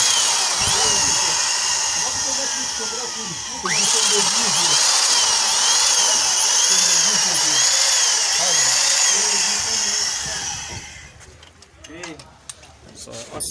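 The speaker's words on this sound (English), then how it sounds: "we are going to drill in 5mm" A power drill bores a 5mm hole into an engine exhaust pipe, making a steady, loud whine that grinds on without pause for about eleven seconds before cutting off.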